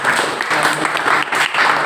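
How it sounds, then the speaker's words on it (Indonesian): A classroom of students applauds together, steady dense clapping close by that carries on without a break. "Oke, tepuk tangan."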